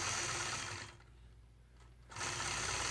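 Sewing machine stitching a quilt block point to point along a ruler, a steady close whirring that stops briefly in the middle and then resumes.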